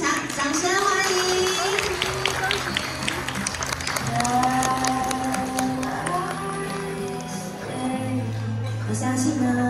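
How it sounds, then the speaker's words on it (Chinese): Guests at a wedding banquet in Taichung applaud, a sustained burst of clapping mixed with background music while a voice speaks over the room. "掌声欢迎"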